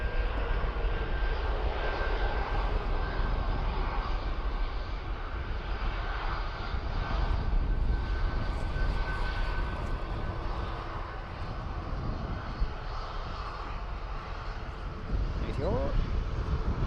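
An ATR aircraft at Dublin Airport gives a continuous engine drone that fills the whole stretch at a fairly even level, with faint talk and scattered small noises under it.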